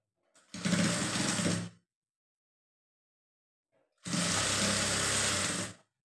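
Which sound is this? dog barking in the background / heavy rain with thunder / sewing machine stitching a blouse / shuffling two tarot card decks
sewing machine stitching a blouse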